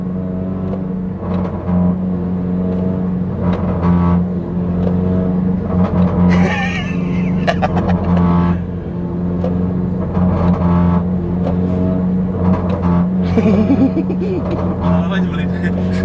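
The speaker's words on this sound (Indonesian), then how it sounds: "Mainan pop and bang." Modified Honda Brio revving hard with repeated throttle blips and lifts, its exhaust crackling with pops and bangs over a steady engine drone, heard from inside the car while people talk throughout.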